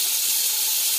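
Tomatoes hitting a hot pan for Punjabi mutton pulao, a loud, steady bright hiss of steam and sizzle lasting about a second with no voices.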